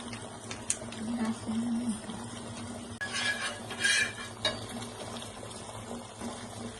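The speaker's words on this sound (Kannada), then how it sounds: "ನಾನೀಗ ಫ್ರೈ ಮಾಡ್ಕೊಳ್ತಾ ಇದ್ದೀನಿ ಬ್ರೆಡ್ ನ ತುಪ್ಪ ಹಾಕ್ಬಿಟ್ಟು." Bread frying in ghee in a pan gives a faint, steady sizzle, with a few soft utensil clinks and stirring sounds.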